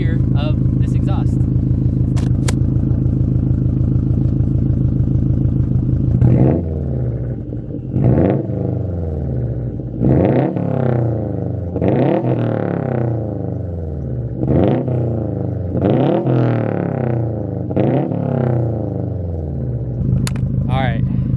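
A Subaru WRX STI on an MBRP catback exhaust idles with a deep burble, then is blipped repeatedly, about seven sharp rising revs that snap back to idle, loud and close.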